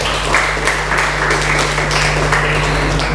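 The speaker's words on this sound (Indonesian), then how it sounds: "Oke, wow, tepuk tangan dulu" A school audience claps steadily throughout at a public-speaking event, a dense continuous patter of many hands with a low steady hum underneath and no talk over it.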